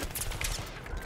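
Dense gunfire in a first-person shooter on the Bazaar map, rapid overlapping shots crackling continuously for about a second, close and loud.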